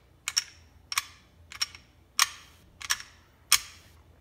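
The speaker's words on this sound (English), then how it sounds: "push until you hear that click" A Glock 17 pistol gives six sharp, close metallic clicks in a loosely even rhythm during an armorer's disassembly hold, with quiet gaps between them.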